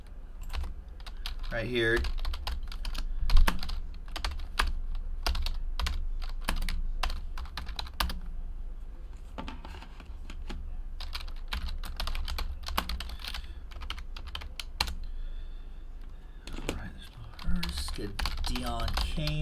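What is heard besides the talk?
typing on a computer keyboard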